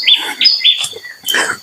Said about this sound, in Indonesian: Kita itu ditemani suara-suara burung